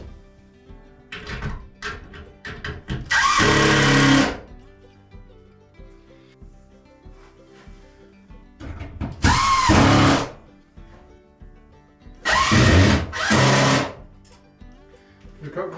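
A power drill drives screws into a wooden storage rack in three loud whirring bursts separated by quieter handling noises and light knocks, close by.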